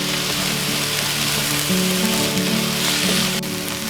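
Zucchini browns in a pan, making a constant, dense sizzle like light rain that runs evenly throughout with no voices over it.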